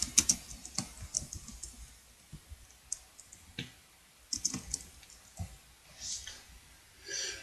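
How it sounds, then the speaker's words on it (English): Fingers tap out a name on a computer keyboard in a quiet room, with irregular light clicks and short bursts of keystrokes close by and no talking. "type your name."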